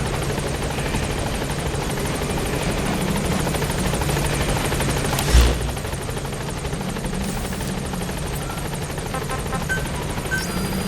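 Support helicopter hovering over a landing zone in Metal Gear Solid V, a continuous loud rotor drone and whine filling the scene, with one brief thump partway through.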